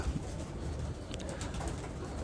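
Kasuri pigeons coo softly against a constant background noise, low murmuring calls repeating without any voices.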